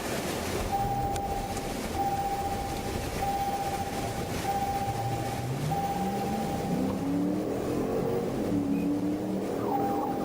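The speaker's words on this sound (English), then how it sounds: "a Dodge Ram blasted across the span at over 100 miles per hour" A Dodge Ram truck speeding at over 100 mph during a police chase: a constant roar of road and engine noise, with a steady high tone and an engine note climbing in pitch as it accelerates.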